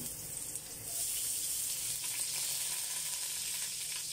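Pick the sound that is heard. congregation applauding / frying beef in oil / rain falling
frying beef in oil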